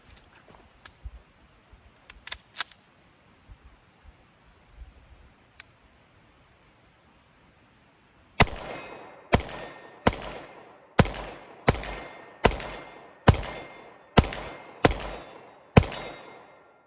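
Pistol shots ring a 12-inch steel target about 40 yards downrange: ten sharp cracks, each followed by a short metallic ring, come in a steady rhythm after a quiet stretch with a few faint clicks.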